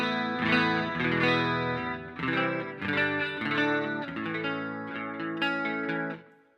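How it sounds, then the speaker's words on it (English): A guitar through an acoustic simulator, with a processed, chorus-tinged acoustic-style tone, strums chords in a steady rhythm, close and clear, with no talking. "this is through the acoustic simulator here"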